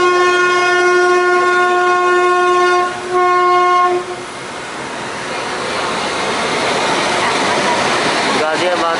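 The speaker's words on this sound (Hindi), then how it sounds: "हमारी ट्रेन निकल चुकी है और यहाँ पे शायद इलेक्ट्रिक लोकोमोटिव लगाया गया है" A long passenger express departs behind an electric locomotive, which sounds a loud sustained horn for a few seconds before the horn stops. Rolling rumble and rail noise then build steadily and fill the rest of the clip.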